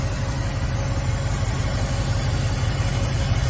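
A Dodge Charger engine runs at a steady idle, a continuous low rumble close by with an even, unchanging tone and no voices over it.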